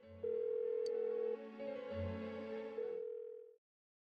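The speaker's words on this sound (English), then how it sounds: "Why won't she pick up the phone?" A phone rings unanswered in Persona 4 Golden with steady electronic tones that hold, pause and repeat in a synthetic ringing pattern over a few seconds, then cut off into silence.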